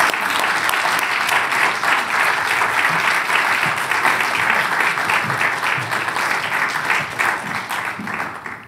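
Warm audience applause welcoming a professor to the stage for her inaugural lecture, steady hand clapping from a full room that carries on for several seconds and tapers slightly at the end.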